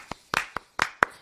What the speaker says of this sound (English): Come on, let's get a round of applause here.